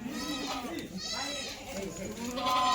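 About sixty-five Kathiawadi goats bleat repeatedly at close range, overlapping calls from the herd, with people talking over them.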